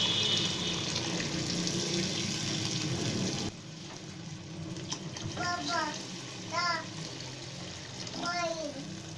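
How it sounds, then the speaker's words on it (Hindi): Water pours in a steady stream into a cooking pot of chicken pulao for a few seconds and then stops. High-pitched voices chatter afterward. "अब इसके अंदर हम पानी डाल देंगे,"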